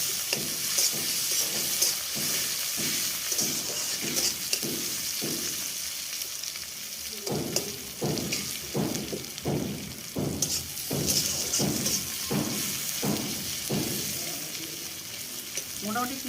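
Sliced onions fry in a pan at home, a steady close sizzle broken by about a dozen rhythmic scraping stir strokes of a spatula, the strokes coming faster in the second half.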